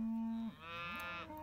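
A cow in a corral, being sorted for artificial insemination, lets out one long, loud, close moo that bends in pitch midway and holds for over a second before fading.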